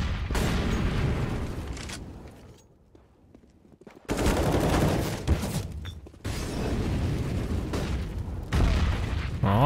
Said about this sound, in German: Oh, Granaten fliegen gut,